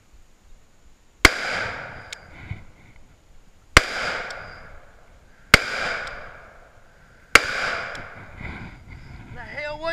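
Four loud, sharp gunshots crack out at intervals of about two seconds during a hunt in open air, each followed by a long ringing echo, with wind noise in the background.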